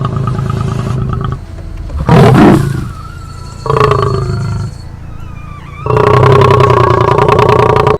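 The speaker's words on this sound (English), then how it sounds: "all the poor lion can do is just watch and growl at them" A male lion on an African safari roars and growls while charging, in loud, harsh bursts that alternate with quieter lulls and end in a long, sustained growl, with no talk.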